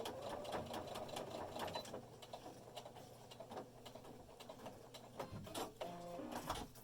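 A sewing machine stitches and tacks fabric for a homemade face mask, its rapid mechanical running coming in bursts separated by brief pauses and handling clicks, close and fairly quiet.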